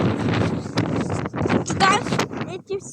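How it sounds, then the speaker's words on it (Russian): Strong outdoor wind buffeting the microphone in loud, rumbling gusts that rise and drop, mixed with a person talking and rustling noise. "там просто ветер будет сильный"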